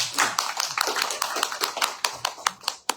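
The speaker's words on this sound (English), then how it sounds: "Could you just give him a good clap?" Clapping from an audience at an Arya Samaj foundation day gathering in the Bronx, heard as a sparse, uneven run of distinct claps that thins toward the end.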